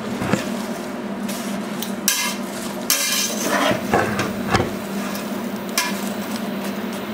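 Spoon stirring root vegetables and sugar together in a cooking pot, with scraping and clinking knocks against the metal at an irregular pace, close by, no talking.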